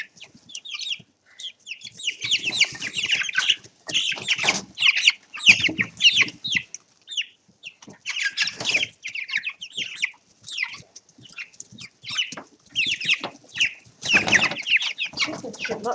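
Young chicks cluck and peep busily while eating yogurt from a food bowl, with bursts of chirping and clucking, occasional wing flaps and brief quiet gaps, fairly close.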